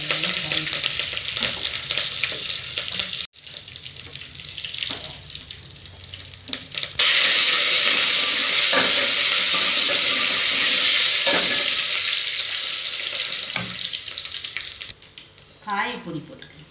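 Curry leaves, dried red chillies and fenugreek crackle and sizzle in hot oil in a home kitchen, a loud steady frying hiss that swells midway and runs on, with brief clatters of stirring.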